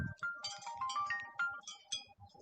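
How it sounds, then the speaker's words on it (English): A phone rings with an incoming call, a faint melodic electronic ringtone of short tonal notes rising and falling over a couple of seconds. "And somebody's calling me."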